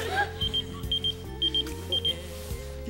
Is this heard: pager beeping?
yes